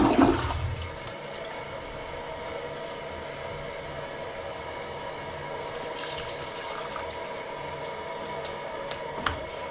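A toilet flushes with a sharp start, then water keeps rushing and refilling steadily for several seconds nearby.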